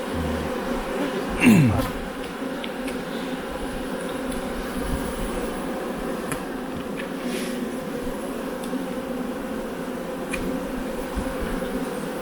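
Honeybees buzz steadily during a beehive inspection on a honey farm before overwintering, a dense continuous drone close by, with one bee zipping past near the mic early on.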